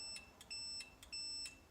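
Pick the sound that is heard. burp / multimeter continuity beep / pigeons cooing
multimeter continuity beep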